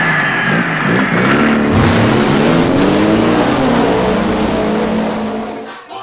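A car engine starts and revs, a loud, close, rising roar that holds steady for several seconds before trailing off at the end, with no talking.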